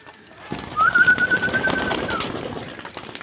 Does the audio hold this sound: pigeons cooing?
yes